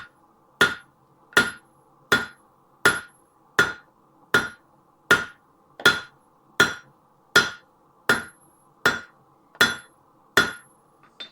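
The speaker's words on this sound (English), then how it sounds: "we're going to start hammering with the cross peen" A blacksmith's hammer strikes a hot steel spoon blank with its cross peen in a steady rhythm of about a dozen sharp, ringing blows. Each blow is evenly spaced and close, with a faint metallic ring between strikes and no talk.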